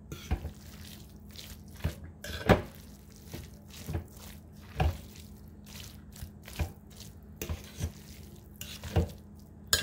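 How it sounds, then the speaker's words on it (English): Barbecue sauce being stirred into brisket in a crockpot, with soft, irregular scraping and wet clicks of a utensil against the pot, close by and fairly quiet, no talking. "I'm gonna stir that in, see how that look"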